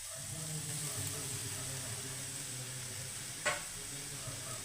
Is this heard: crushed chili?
yes